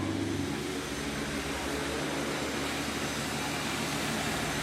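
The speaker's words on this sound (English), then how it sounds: "And I think he just turned on his car." A Ford Mustang engine starts and runs with a steady idle rumble, with a broad steady hiss throughout.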